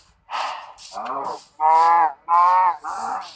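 Chickens in the Minecraft video game, several loud, close clucking calls in quick succession with short gaps between them.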